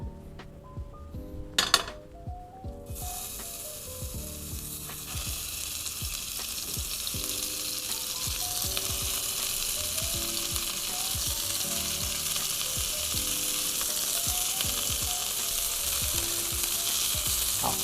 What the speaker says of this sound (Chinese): 把这个猪肋排呢我们煎一煎